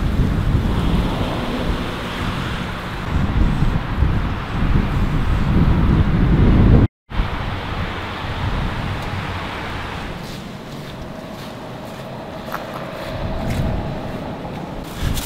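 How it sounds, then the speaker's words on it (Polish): Strong wind buffets the microphone in an outdoor town setting, a loud continuous low roar with gusts that drops briefly and then continues somewhat steadier and quieter, with no talking. "kiedy wieje mocny wiatr"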